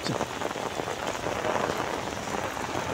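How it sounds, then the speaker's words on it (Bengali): Heavy rain pours steadily in Sylhet, a dense, even hiss of drops drumming on surfaces with no pauses, moderately loud and close throughout. "দিনভর বৃষ্টি হচ্ছে।"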